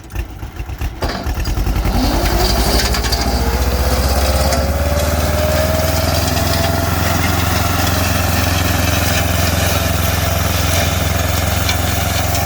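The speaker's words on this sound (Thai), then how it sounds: "รถไถเป็นฮิโนโมโตะ23 แรงนะครับ" A 23-horsepower Hinomoto tractor engine starts up and settles into a loud, steady roar with a rising mechanical whine, running continuously close by, driving a 1.6-metre mower attachment.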